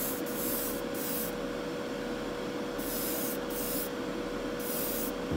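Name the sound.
spray painting a model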